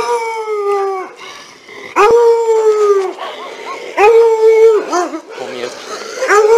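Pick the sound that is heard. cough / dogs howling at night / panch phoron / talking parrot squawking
dogs howling at night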